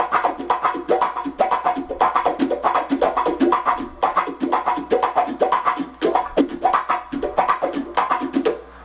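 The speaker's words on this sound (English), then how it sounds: "if I don't even play a chord and just hold, you know, no pressure, it'll sound like this." Muted funk guitar strumming with a wah pedal and no chord fretted, steady percussive sixteenth-note scratches with shifting wah tone, close and alone.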